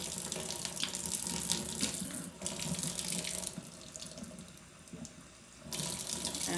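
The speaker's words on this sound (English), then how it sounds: "And then you fill the rest up with water." Tap water runs steadily into a cleaning spray bottle at a kitchen sink, a close, hissing gush whose pitch and level shift as the bottle fills, with brief pauses in the flow.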